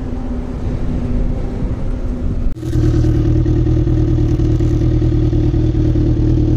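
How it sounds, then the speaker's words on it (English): A Suzuki GSX-R1000 with a Laser aftermarket exhaust runs loud and close. Its steady droning engine drops out briefly, then returns with a deeper, stronger, sustained rumble. "So he installed a laser exhaust"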